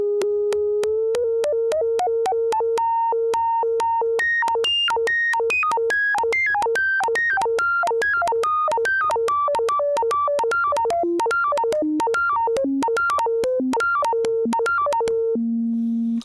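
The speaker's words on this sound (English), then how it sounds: "So that's just the filter you're hearing there with the contour generator." A 1973 Minimoog Model D synthesizer plays a run of quick bright notes through its filter shaped by the contour generator, each pitch rising and falling in rapid sequence before settling on one low held tone.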